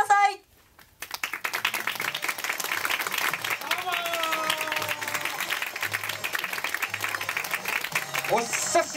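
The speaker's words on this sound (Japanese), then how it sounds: "どうぞ拍手でお迎えください。" Sustained crowd applause and clapping welcomes a guest onto the stage at a film premiere event, loud and steady after a brief pause, with music and voices mixed in.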